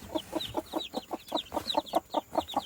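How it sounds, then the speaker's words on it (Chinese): A brood of eight newly hatched chicks being fed corn mixed with feed gives quick, evenly spaced calls in a steady run of about a dozen, close and clear. "这是今天出壳的那一窝8只小鸡。"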